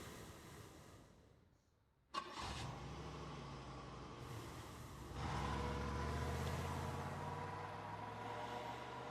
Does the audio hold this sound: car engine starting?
yes